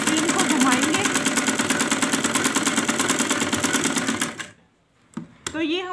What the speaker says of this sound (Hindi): अब हम यहाँ से सिलाई लगाएंगे